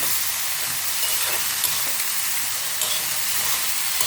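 Beans for a poriyal sautéing in a pan to dry off their moisture, a continuous close hiss of frying with faint stirring.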